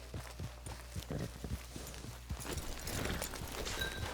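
Horse hooves clip-clop in an irregular walking rhythm on the ground in Red Dead Redemption 2, fairly close and moderately loud, with scattered light ambient noise around them.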